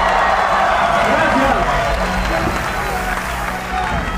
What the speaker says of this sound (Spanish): un aplauso fuerte para todos ustedes